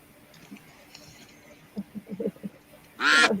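Ducks quacking in a short burst close by, following a stretch of quiet background with a few low bumps and murmurs.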